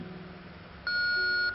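A single steady electronic phone beep in the horror game Home Sweet Home, clear and sustained for about half a second after a quiet hum.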